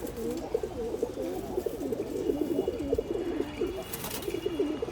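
Giribaz pigeons coo in a steady run of soft, rolling calls close by, repeated throughout with light background noise and no voices.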